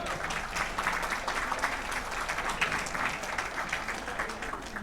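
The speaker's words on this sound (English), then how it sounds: "A huge round of applause for Parul Juneja." An audience at an Indian community trust's 25th anniversary event in Auckland applauds a Kathak dance performer, with a steady, dense round of clapping that fills the whole stretch at moderate loudness.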